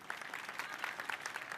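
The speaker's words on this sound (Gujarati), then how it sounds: "પાડો તાળી જોરથી." Brief burst of audience applause at a village gathering of married daughters, a dense patter of many hands clapping steadily, moderately loud, with faint voices underneath.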